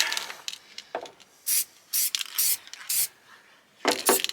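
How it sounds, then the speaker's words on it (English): Short hissing bursts of an aerosol can spraying red oxide primer underneath a Renault Trafic van, repeated several times at close range amid faint scraping and handling noises. "Just going to spray a little bit"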